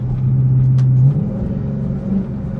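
Dodge Hellcat with a new exhaust rumbles loudly nearby, with a low steady drone that eases off into uneven burbling and crackle as the revs drop.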